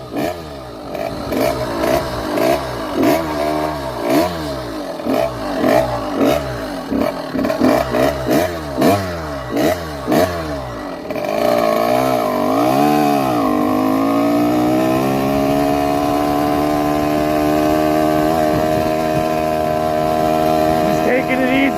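A motorized bicycle with a ported 49mm iron-bore two-stroke engine runs loud and close, first choppy and uneven as it struggles to idle, then settling into a steady higher buzzing drone.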